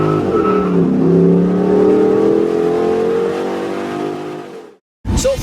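A turbocharged 2008 Subaru Legacy GT engine revs and rises in pitch as the car accelerates, loud and close, then cuts off briefly before resuming.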